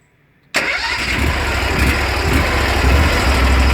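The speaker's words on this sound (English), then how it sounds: "Let's just fire the washer back up." A gas pressure washer engine fired up after a short quiet moment, catching abruptly and settling into a loud, steady running rumble close by, with no talk.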